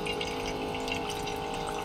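An electric water pump draws water in a home kitchen, giving a steady, even hum mixed with continuous flowing water at moderate level.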